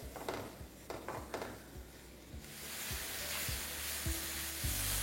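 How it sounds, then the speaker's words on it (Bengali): Spices for chicken kofta curry sizzle on a low flame while being mixed, steady frying hiss with a few scrapes and clinks of stirring, louder in the second half. "এরপর ফ্লেমটা লো রেখে এটাকে ভালো করে একবার মিশিয়ে নিন।"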